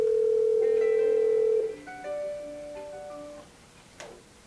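A Cisco IP phone, model 8811 or 8851, gives a long steady electronic tone, then a string of short stepped ringtone notes that fade, with a brief click near the end.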